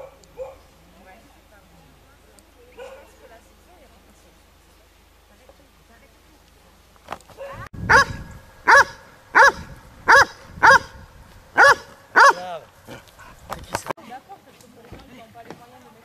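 Several dogs at a canicross event bark in a rapid series of about eight loud, evenly spaced barks close by, following a stretch of quieter background with scattered voices.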